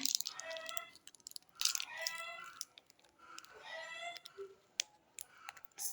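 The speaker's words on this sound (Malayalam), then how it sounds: "കോഴിൻ്റെ ശബ്ദം കേൾക്കുന്നുണ്ടെങ്കിൽ ക്ഷമിക്കുക" Chickens and a rooster crowing nearby in repeated calls with clucks in between, fairly faint, while a person talks quietly in the background.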